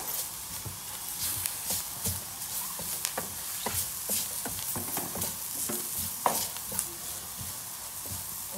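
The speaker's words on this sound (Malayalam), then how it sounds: "നന്നായിട്ട് ഇനി ഇതിൻ്റെ ഒരു പച്ചമണം പോണവരെ നമ്മളൊന്ന് ഇളക്കി കൊടുക്കണം." Egg filling seasoned with garam masala being stirred in a pan, with a soft continuous sizzle and repeated light scraping strokes of a spoon at an even rhythm.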